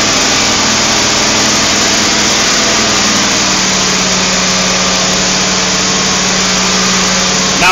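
An LSX V8 engine with diesel mufflers idles steadily, a loud continuous drone with a low lopey hum that settles into a steadier tone partway through, heard close up without talk.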